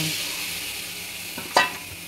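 Marinated chicken with ginger, garlic, green chilli, black pepper and cumin sizzles steadily in a wok as a soft hiss, with a sharp stir or scrape near the end.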